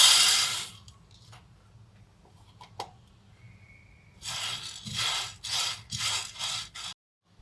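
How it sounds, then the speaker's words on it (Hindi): Washed, dried barley grains roasted in a hot pan over low-medium heat, with a short scrape early on and then a run of rhythmic, fairly loud scraping and rustling bursts as the grains are stirred. "अब हम इन्हें भून लेंगे, गरम पैन में डालेंगे"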